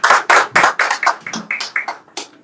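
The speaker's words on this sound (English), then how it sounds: "please give a round of applause for Dr. Preston." Applause from an audience at an indoor book release and signing event, a burst of loud claps that gradually thins and fades over a couple of seconds, with no voices over it.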